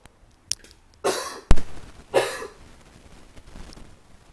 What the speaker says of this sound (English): Let me clear my throat first.